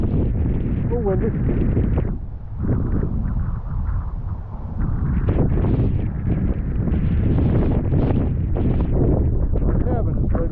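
Wind gusting outdoors on a Montana overlook, a steady broadband rush with swells and lulls, close to the microphone and buffeting it throughout.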